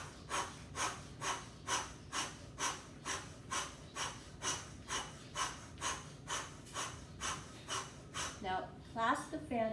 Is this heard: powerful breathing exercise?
yes